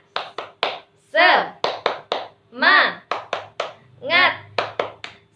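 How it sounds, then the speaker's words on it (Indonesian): A primary school class performs a rhythmic spirit clap, sharp group hand claps in a patterned beat alternating with children's chanted voices, close and clear in a classroom. "kita tepuk semangat"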